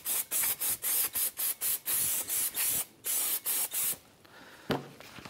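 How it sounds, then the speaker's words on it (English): Brake cleaner sprayed onto the outer pad surface of a new front brake rotor for a 2015-2019 Hyundai Sonata, a series of about a dozen sharp, loud, close hissing bursts in quick rhythm, ending in a brief softer spray and a clunk. "we're gonna hit this outer surface here where our brake pads will sit with some brake clean"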